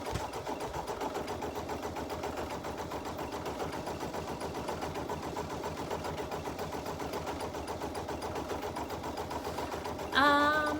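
An embroidery machine stitches in a steady, fast mechanical rhythm, a continuous rattling whir close by, ending with a brief tonal beep or chime near the end.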